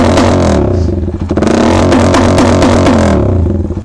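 A Suzuki Raider Fi motorcycle fitted with a new Lucifer exhaust pipe revs hard and loud nearby, its engine rasping and pulsing through repeated throttle blips for a few seconds.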